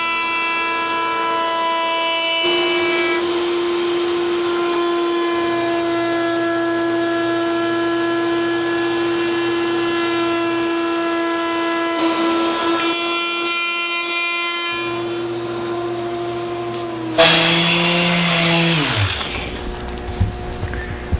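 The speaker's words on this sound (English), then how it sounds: "ease the corners, inside and out, using a roundover bit in the router table" A router table with a roundover bit whines at a high, steady pitch as it rounds over wooden edges, its tone shifting as the bit moves, ending in a harsher burst of cutting noise.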